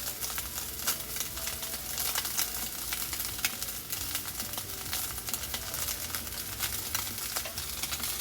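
Tuna steak sizzles and fries in oil in a pan, a steady crackling hiss with scattered pops running throughout at moderate level, no voices.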